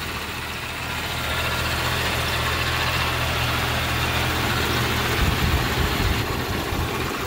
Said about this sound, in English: Power steering pump sounds a little iffy.